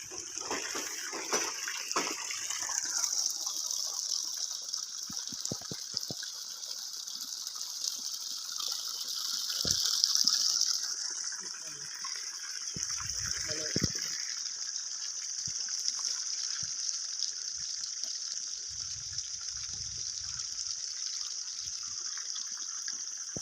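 Water gushes continuously from a borewell pipe on a coconut farm, a steady hissing rush that swells briefly near the middle and carries on unbroken, with occasional faint knocks and no talking.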